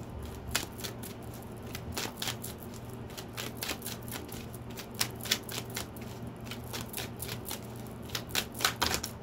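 Tarot cards being shuffled by hand, a close run of quick riffling flicks and taps repeating across the whole stretch, with no voice over it.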